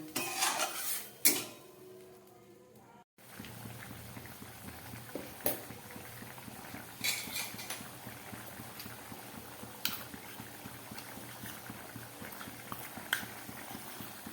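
Chana dal bubbling in a pot on the stove, a quiet steady simmer with soft popping and a few louder clinks of utensils against the pot early on.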